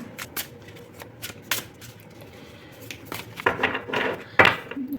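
Tarot cards are shuffled close by: scattered soft clicks and flicks, then a fuller riffling burst near the end.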